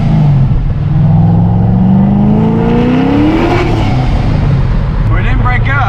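A warmed-up car engine with wrongly gapped spark plugs revs hard and close, its pitch climbing steadily before dropping back to a rough idle, with a voice talking over it.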